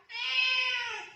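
A kitten gives a single clear, drawn-out meow, close and fairly loud, lasting about a second.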